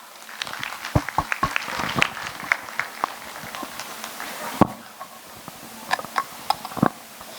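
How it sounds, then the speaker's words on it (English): Scattered applause ripples through an audience honoring student authors at a school annual day celebration in Ambernath, with uneven individual claps rising and falling at moderate distance. "Let us honor their achievement with a resounding round of applause."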